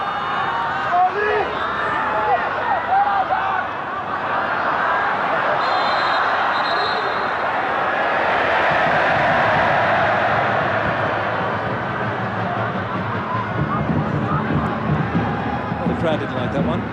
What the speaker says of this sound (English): Crowd didn't like that one.